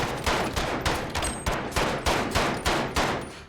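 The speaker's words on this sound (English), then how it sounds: "And the gun sounds, oh, they are so nice as well." MP5 submachine gun firing in the game Modern Warfare, a rapid, evenly spaced string of about eight loud close shots with no talking.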